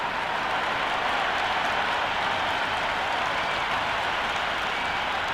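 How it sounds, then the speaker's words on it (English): A stadium crowd at a PSL cricket match in the Cricket 26 video game makes a steady, dense roar of cheering and applause, distant and unbroken throughout with no distinct voices. "already the crowd making a hell of a racket"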